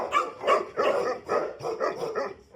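A Tibetan Mastiff at a kennel barks repeatedly nearby in a steady rhythm, about eight deep woofs over a few seconds with short gaps between them.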